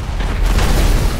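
A rocket-firing Spiderman car blows up in a racing video game, a loud sustained blast of dense noise with a deep rumble lasting over a second, no voices.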